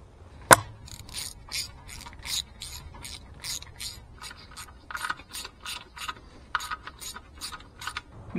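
A torque wrench ratchets in quick repeated clicking strokes while tightening timing cover bolts on a 1966 Thunderbird engine, with one sharp clack near the start, then fairly close rhythmic bursts throughout.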